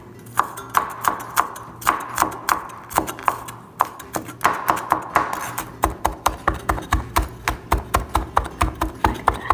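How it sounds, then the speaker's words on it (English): A knife cuts peeled garlic cloves on a cutting board, sharp close taps that start irregular and settle into a fast, steady chopping rhythm, with no voices. "you want to first peel the garlic and then you're going to cut."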